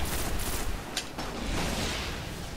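Rapid video game gunfire, dense overlapping shots in a continuous fusillade with one sharper burst near the middle, steady and fairly close, no talk over it.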